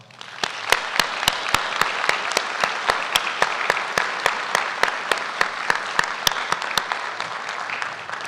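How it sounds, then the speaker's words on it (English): Graduation ceremony audience applauding, a dense, loud wash of many hands clapping, with regular sharp claps standing out near the microphone throughout, sustained for about eight seconds. "let's give them a round of applause as well"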